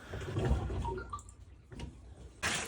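Water runs from the tap of a newly installed bathtub while its two-mode switch and drain are tested: a steady, close rush of flowing water that eases midway, then surges louder at the end.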